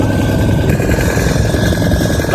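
Boat engine running loudly and close at a steady pace on an island trip, a constant rumbling drone with a throbbing low end and a faint whine above it, heard alone without talk.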